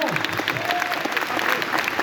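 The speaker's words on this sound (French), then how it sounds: "On peut les applaudir très fort en full improvisation." Audience applause after an improvised bit at a geek-days conference: a short, dense burst of clapping from the crowd, with voices mixed in and underneath.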